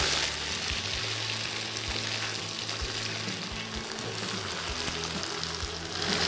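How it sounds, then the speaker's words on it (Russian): Mushrooms and onions reheating in a frying pan with potato dumplings: loud, steady close sizzle and hiss, with soft periodic scrapes and taps as the mixture is gently stirred. "Разогреваем наши грибочки с луком."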